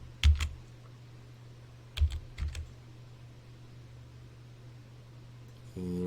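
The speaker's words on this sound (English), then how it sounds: "but I will also type it as well" Typing on a computer keyboard, heard as a few brief, close clusters of key clicks separated by pauses over a steady background hum, with no speech.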